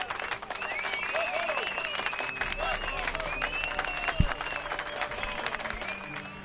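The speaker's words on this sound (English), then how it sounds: "They got an applause." Crowd clapping after a stage play in The Witcher 3 game, steady applause with voices speaking over it and a brief thump partway through.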